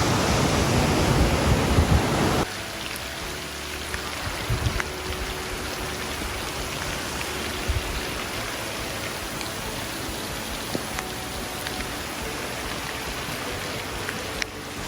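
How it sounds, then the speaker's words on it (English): Steady rain pattering down close by on the John Muir Trail, a dense even hiss with occasional louder drops, after a brief louder rustle at the start. "It started raining."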